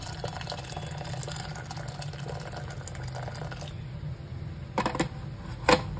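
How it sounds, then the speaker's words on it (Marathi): Boiling water from a kettle is poured onto washed lentils. A steady, close pouring and splashing stream runs for several seconds, then gives way to a few short clinks. "आता याच्यामध्ये मी गरम पाणी ओतणार आहे, उकळतं पाणी हे केटलमध्ये केलेलं"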